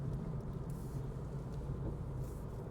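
A 2024 Audi A1 drives over a bumpier stretch of road, heard as a constant low rumble of road and tyre noise inside the cabin with no distinct thumps standing out.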